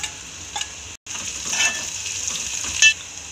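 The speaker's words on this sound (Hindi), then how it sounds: "हम कांदे को 1 मिनट तक भून लेंगे" Chopped onion, green chilli and garlic sizzling in hot oil in a pan, a steady bright frying hiss broken by a brief stir and an instant's dropout, with no voices.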